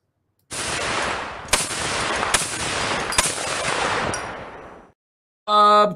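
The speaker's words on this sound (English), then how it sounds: "Cannon in the house." Loud cannon-style sound effect: a rapid string of booming blasts with sharp reports around the second and third seconds, cut off cleanly, then a short electronic tone.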